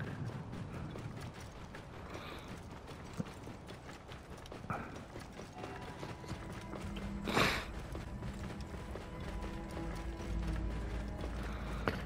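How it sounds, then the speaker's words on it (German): Hooves of a horse or camel clip-clop faintly in Assassin's Creed Origins, a steady patter under game ambience with a mechanical ratcheting sound and a brief louder swell midway. "Na, komm her, das Pferdchen. Oder Kamelchen."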